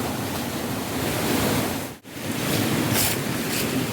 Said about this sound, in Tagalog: Lakas na ng tubig dito.